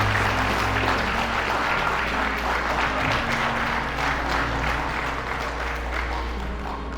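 Memorial Day audience applauding veteran Bob Becker, a dense, sustained round of clapping from a crowd with no voices above it.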